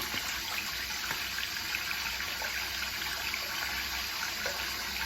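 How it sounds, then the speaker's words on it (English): Steady stream of running tap water, continuous and moderately close, splashing as hands move beneath it. "On the tap before I put my hands under the water."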